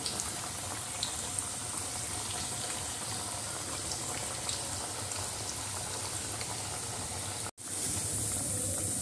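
Chicken chilli pakoras sizzle in hot oil, a steady bubbling hiss throughout with a brief dip near the end before the frying resumes.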